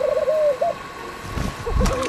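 Cartoon pigeons coo softly in short warbling phrases, a few gentle burbling calls near the start and again at the end over faint background sound.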